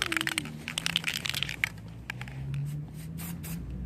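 A spray paint can, used for repainting GY6 scooter handlebar controllers and mirrors, is shaken and sprayed up close: rattling, scraping bursts followed by hissing spray, with no talking.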